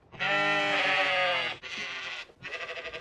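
A sheep bleats loudly and close, one long wavering bleat followed by two shorter, shakier ones, with no talking over it.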